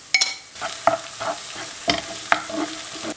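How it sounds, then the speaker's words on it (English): Tomato paste and pepper paste hit a pan of caramelized onion and garlic, sizzling and frying while a utensil stirs, giving a few sharp clinks and scrapes over a soft hiss, close and without talk. "Going to add my tomato paste and a little bit from the pepper paste sauce."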